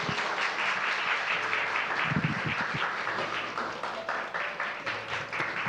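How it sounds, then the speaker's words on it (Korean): A crowd at a school parent-education session applauds to welcome the principal, producing steady, dense clapping that lasts the whole stretch at an even level. "우리 큰 박수로 맞이하겠습니다."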